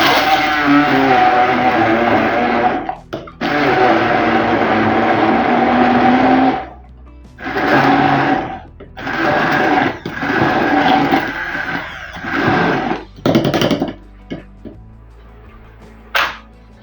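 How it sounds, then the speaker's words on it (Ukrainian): An immersion blender whirs in loud, close bursts as it chops onion into a meat mixture for patties, with a long first run followed by several shorter pulses separated by pauses. "І все трішечки перебиваємо блендером, занурюємо його сюди."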